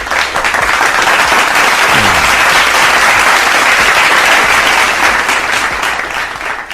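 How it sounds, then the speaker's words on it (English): Studio audience breaks into loud, sustained applause to welcome a guest onto a talk show, a dense wash of clapping filling the whole stretch before easing slightly at the end. "an applause."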